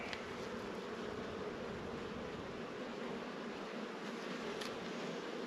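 Honeybees in a spring beehive give a dense, steady, close buzz that holds evenly throughout with no breaks.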